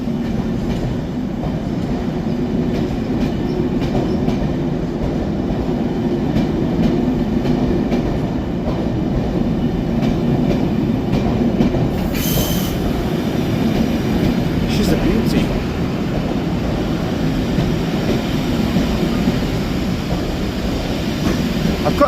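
Steam locomotive 6532 Blue Peter hauling a train on the Settle Carlisle Railway, a steady loud rumble of wheels and carriages rolling past for the whole stretch, with a brief sharper hiss midway.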